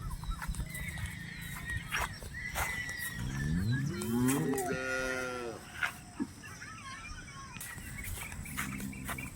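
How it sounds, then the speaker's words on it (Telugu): A Holstein Friesian cow with black and white patches, heavily pregnant and close to calving, gives a long, loud, rising and falling moo at close range, with scattered farmyard knocks before and after. "బ్లాక్ అండ్ వైట్ ప్యాచెస్తో ఉన్న హెచ్ఎఫ్ ఇది హెచ్ఎఫ్ ఆవు"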